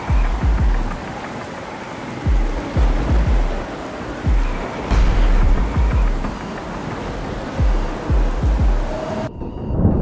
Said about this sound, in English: accompanied by torrential rain and massive hailstones that hammer everything in their path.